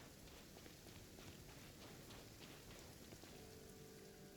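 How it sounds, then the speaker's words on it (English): Steady rain falls across a scene in the video game Genshin Impact, a dense, even hiss of drops that runs unbroken and fairly quiet throughout with no voices over it. "And now it's raining."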